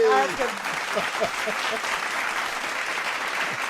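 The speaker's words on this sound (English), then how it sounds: "Double clap. Double clap." A burst of applause from a small group rises at the start and then settles into sustained clapping that fades a little, with a voice speaking briefly near the beginning.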